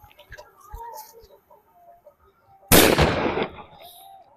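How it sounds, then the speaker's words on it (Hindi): A Cock brand Mini Bullet firecracker, a Diwali cracker, goes off outdoors with one sharp, loud bang that decays over about a second, after a few quiet clicks and rustles. "भाई मिनी बुलेट काफी ज्यादा साउंड करने वाला है यार, और ये कॉक ब्रांड का ये पटाखा है"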